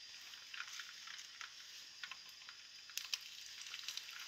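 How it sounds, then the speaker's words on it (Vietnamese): Leftover cooked rice fries in cooking oil in a pan, a soft, steady sizzle with scattered small crackles and pops, faint and close, with no talking. "Mình chiên cho nó vàng hai bên là được rồi."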